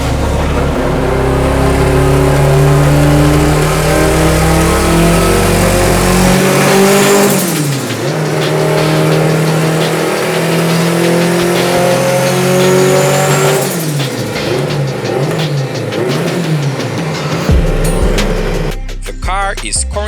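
A 900-horsepower MR2 race car makes a full-throttle pull at a tuning session, its engine revving hard and loud through rising gear sweeps, with a brief lift and then a renewed climb near the end.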